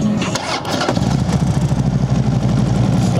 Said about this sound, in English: Go ahead and start it up for you guys.